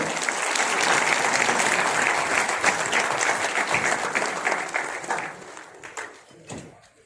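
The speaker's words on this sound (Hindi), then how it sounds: "जोरदार तालियों के साथ स्वागत करें।" Crowd applause welcoming a guest at a community society function in India, loud dense clapping that thins out and trails off to a few scattered claps near the end.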